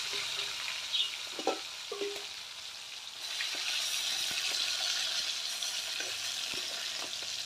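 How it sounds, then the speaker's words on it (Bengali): Pieces of catla fish frying in hot oil, a steady close sizzle and crackle with occasional utensil taps, growing louder and denser partway through. "তো আমি এখন বাকি মাছগুলো ভেজে নেব।"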